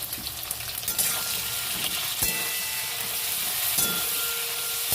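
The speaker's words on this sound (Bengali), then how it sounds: "অল্প একটু লবণ আর হলুদ দিয়ে ভেজে নেব" Pointed gourd frying in a pan with salt and turmeric, giving a steady loud sizzle with occasional clacks of stirring throughout.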